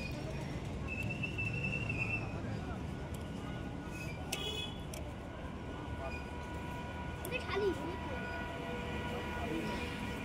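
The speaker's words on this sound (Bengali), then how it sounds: "এখন আমাদের কৃষ্ণনগর লোকাল এই যে ঢুকছে" A Krishnanagar local train pulls into a station, a continuous low rumble of wheels and carriages that stays fairly faint and distant.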